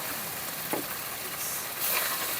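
Spice paste frying in oil in a pan for a Bengali jackfruit and prawn curry, a steady close sizzle with a faint scrape partway through.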